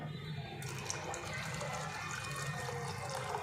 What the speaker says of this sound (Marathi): मिक्सरमध्ये बारीक दळलेलं टाकल्यानंतर पाणी टाकते